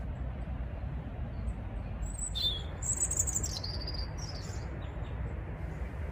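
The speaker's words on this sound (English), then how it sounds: "Here's a robin loudly declaring its territory." A robin sings in a winter garden, a few high, thin warbling phrases over a steady low background rumble, moderately distant and fairly faint.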